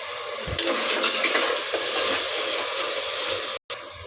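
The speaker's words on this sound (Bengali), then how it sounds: "আদা আর রসুনটা আমি 5 মিনিটের মতো ভেজে নিয়েছি।" Ginger and garlic fry in a pan with a steady, soft sizzle, and a few scraping stirs come through near the start. A brief dropout cuts in near the end.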